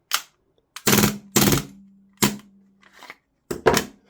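An Action Army AAP-01 gas airsoft pistol fires single semi-auto shots, loud and close, in an uneven string of about five sharp pops with gaps between them and a faint lingering hum after one shot.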